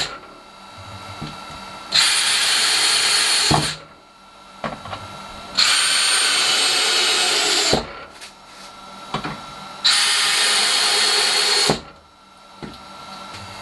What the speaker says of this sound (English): Then it's a matter of adding screws until the whole thing is rigid.